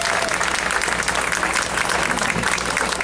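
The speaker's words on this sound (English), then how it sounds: "Let's give them all a big round of applause, guys." Crowd applause at the outdoor opening ceremony of a Danish Days torchlight parade, a loud, continuous burst of many hands clapping, close and unbroken, with faint voices mixed in.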